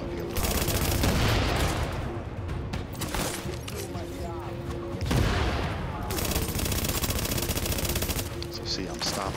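Sustained bursts of automatic gunfire in The Division at Hudson Refugee Camp, loud, dense and rapid, with short pauses between bursts.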